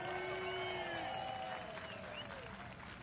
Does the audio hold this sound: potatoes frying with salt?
no